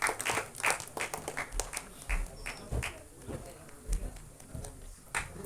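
An audience at an album song screening festival applauds, a soft crowd patter of many clapping hands continuing throughout at moderate distance, with voices faintly underneath.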